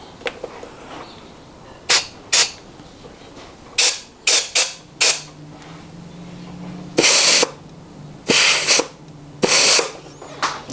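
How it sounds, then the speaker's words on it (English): Compressed air from a shop air compressor is blown into a 4L60E automatic transmission to air-check it, producing about nine loud hissing bursts. Some are brief puffs and others are longer blasts, separated by quiet gaps. "Now we're going to air check this and make sure that it's fine."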